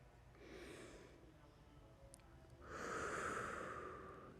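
A slow, deep breath taken during a yoga child's pose: a soft, airy inhale, a brief pause, then a longer, fuller exhale, close and unaccompanied by talk.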